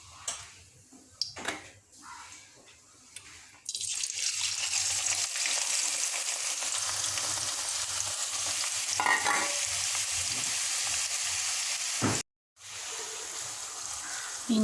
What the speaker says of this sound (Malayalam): ഇനി ഇഞ്ചി പൊരിക്കുക.